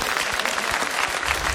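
Audience applause for a contestant team on an Armenian TV singing game show, a dense, steady burst of clapping from a studio crowd, loud and close, lasting under two seconds.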